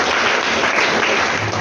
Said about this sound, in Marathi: आपण सर्वांनी ही टाळ्या वाजून आपण या ठिकाणी स्वागत करूया